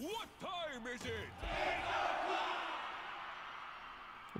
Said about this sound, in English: And then there was like a crowd that said something.